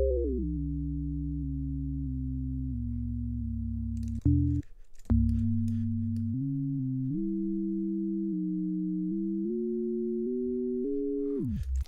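A ring-modulated synthesizer tone with an inharmonic, metallic, bell-like quality steps through a series of sustained pitches, loud and alone, with a short glitchy break partway and a downward sweep at the end.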